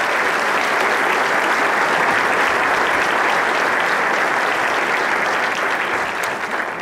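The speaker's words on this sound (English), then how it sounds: "Can we please have a round of applause for all of our generous scholarship donors?" A graduation audience applauds with a dense, steady roar of many hands clapping that holds for the whole stretch and fades slightly at the end.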